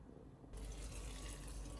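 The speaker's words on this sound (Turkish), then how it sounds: "Sumak suyunu döküp pişireceğim." Sumac water pours into a pot of stuffed vine leaves for a Diyarbakır dolma. A continuous close gush of liquid starts abruptly after a brief quiet moment and runs steadily to the end.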